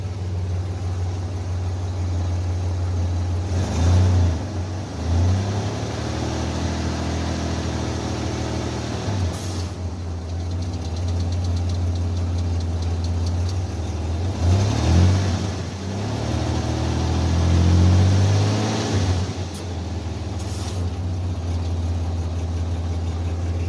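A car engine running steadily in drive, a constant low hum close by that swells a few times as the engine revs slightly, with no talking.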